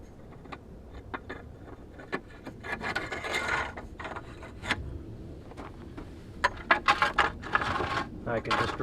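A length of conduit bent into a sweep and clamped to wood pivots on a stake, dragged around a rocky hole dug for an underground water cistern, making intermittent scraping and grinding rubs with brief knocks, while a voice occasionally speaks.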